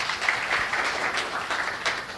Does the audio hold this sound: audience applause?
yes